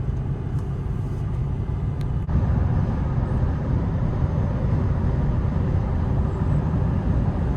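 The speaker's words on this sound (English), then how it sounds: "You can only hear the wind noise. You can't hear any tire noise at all, hardly." Steady low wind rumble inside an L5P Duramax truck cruising on quiet 37-inch tires, a continuous even drone with almost no tire whine and one faint click partway through.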